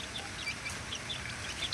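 A hen with her two-week-old chicks, faint high peeps scattered over a low steady background, soft and slightly distant with no talking.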